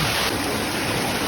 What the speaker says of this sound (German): Es fließt gerade auf das Rohr durch, kommt rein.